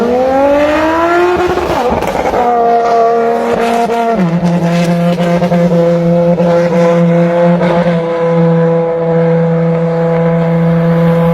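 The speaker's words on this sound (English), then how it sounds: "Coming up is a Ferrari FXXK Evo leaving a car meet, and man, does this thing sound sick." A Ferrari FXXK Evo pulling away from a car meet, its engine screaming loudly with rising revs, a sharp shift, then a sustained high-pitched howl as it holds speed nearby.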